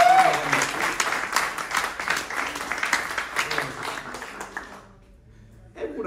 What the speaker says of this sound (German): Gib mal einen fetten Applaus für Dominik